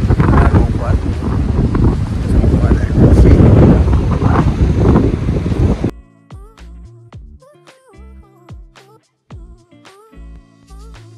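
Strong seaside wind at Mandarmani beach buffets the microphone in a loud, roaring rush for about six seconds, then gives way to background music, with a brief spoken word.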